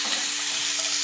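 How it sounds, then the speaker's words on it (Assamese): Onion, tomato and ginger fry together in a pan while being stirred, giving a steady close sizzle with soft scraping movement throughout. "এতিয়া মই এইকেইটা অকণমান ভালদৰে ভাজি ল'ম"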